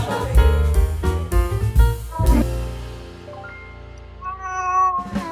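A cat at a raccoon cafe gives several loud, close meows, drawn-out and wavering with strong harmonics, with a short pause before a final call.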